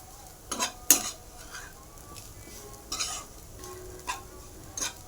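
Chutney stirred lightly in a pan, a few separate scrapes and clinks of a spoon against metal over a faint background hiss.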